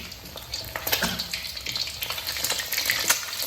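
Nasi goreng fried rice sizzling in a hot pan, a steady crackling hiss with brief clinks of a utensil turning it over, close and fairly quiet, with no talking.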